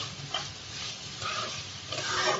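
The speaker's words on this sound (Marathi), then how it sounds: "आता ही भाजी आपल्याला पटापट परतून घ्यायची आहे, जास्त शिजवायची नाहीये." Vegetables for veg momos stir-fried quickly in a pan over a high flame with sauces and Schezwan chutney, a soft, steady sizzle and hiss with light tossing, fairly quiet and with no speech.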